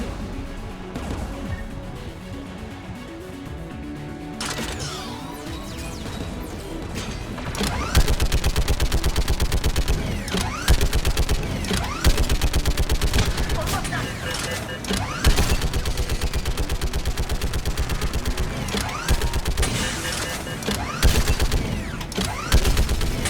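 Sustained gunfire in the video game Mass Effect 3, loud rapid bursts and crashes that build after a quieter opening and continue densely throughout, mixed with game sounds.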